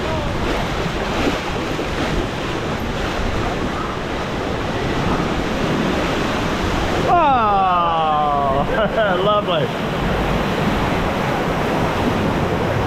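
Loud, steady rush of churning water and spray from a Florida theme park water rapids ride, with a brief passing voice partway through.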